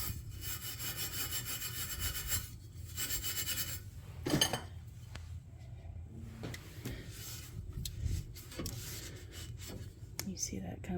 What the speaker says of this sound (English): So this is steel wool, or I think it's called Scotch-Brite. So just going to lightly rub.